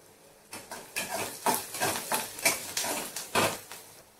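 Onion and a few crushed garlic cloves fry in oil in a pan, giving a steady sizzle broken by rhythmic scraping bursts of stirring, about one every half second, close and moderately loud with no talking.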